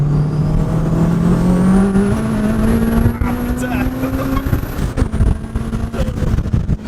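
A Honda Civic Type R turbo engine pulls hard accelerating in third gear, its pitch rising steadily with a faint high turbo whine above, as a man exclaims briefly over the noise.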